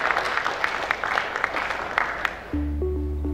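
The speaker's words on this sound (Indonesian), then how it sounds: "Tepuk tangan dulu buat Dr. Adib." Steady applause from a crowd at a medical association symposium and inauguration fills most of the moment, then gives way to a sustained tonal music note near the end.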